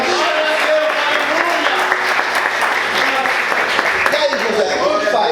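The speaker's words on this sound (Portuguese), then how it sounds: "Aplauda o Senhor e forte." A church congregation claps loudly and steadily through a worship service, a dense sustained wash of applause with voices mixed in, continuing unbroken for several seconds.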